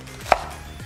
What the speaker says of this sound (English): Mince into small pieces.